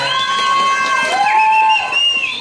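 A crowd of children cheers and whoops continuously at a kids' show, with high, excited tones, loud and close throughout.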